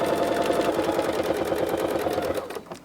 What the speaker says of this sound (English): I'm going to go ahead and top stitch.